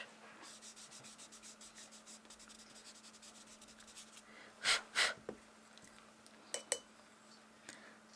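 Pencil lines being erased with an eraser on paper, rapid rhythmic scrubbing strokes, close and soft, with a few louder brushing swipes near the end and no talking.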